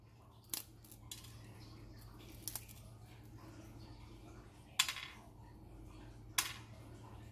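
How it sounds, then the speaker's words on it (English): Crispy Bhajani chakli snaps apart in a few sharp, brief cracks spaced by quiet pauses, close and faint against a low background hum. "this is one chakli which I'm going to break. Let's see if you can hear the sound."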